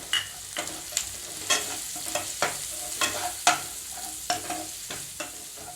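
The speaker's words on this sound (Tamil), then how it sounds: "போட்டு நல்லா வதக்கி விடுங்க." Egg masala being stirred and sautéed in a pan with turmeric, chilli powder, garam masala and coriander powder, a steady sizzle broken by repeated scraping stir strokes at a close, moderate level, with no talking.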